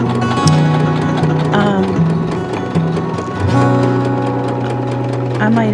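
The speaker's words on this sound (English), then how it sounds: "This is just doing the buttonhole based on the button that I have in the contraption." A sewing machine runs a memory buttonhole function, stitching a buttonhole sized from a button held in its attachment, with rapid, even stitching ticks and shifts in motor pitch.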